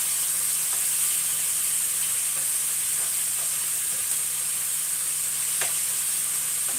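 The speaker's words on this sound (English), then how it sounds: "I'm giving the onions a little bit of a stir" Onions sizzle and fry steadily in a pan on the stove for a homemade burger, a continuous close hiss with a few soft scrapes of stirring mixed in.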